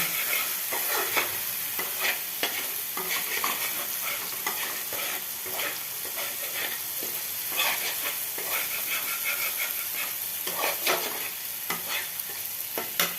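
Food frying in white cooking oil, a continuous close sizzle broken by frequent scraping stirs of a spatula, dense and busy throughout with no speech.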